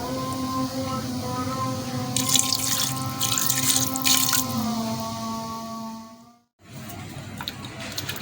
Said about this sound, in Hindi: प्रेशर कुकर में हम डालेंगे गोश्त और 20 से 25 मिनट तक हम लगा देंगे इसको सीटी